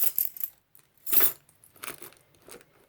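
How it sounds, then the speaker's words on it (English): Keys drop into a small Louis Vuitton or Coach pochette handbag pouch: a few light metallic clinks and jangles, close and moderately loud, with rustling of the bag between them. "And I will put in my keys here."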